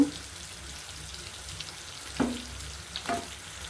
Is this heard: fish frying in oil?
yes